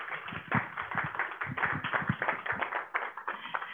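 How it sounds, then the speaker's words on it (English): A small forum audience claps in a steady patter of individual hand claps, moderately loud and close, lasting a few seconds without voices. "Can we give them a round of applause?"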